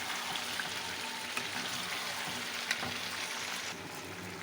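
Beef being slow-fried as kosha in a pan, a steady close hiss of sizzling with occasional soft clicks of stirring throughout, no voices.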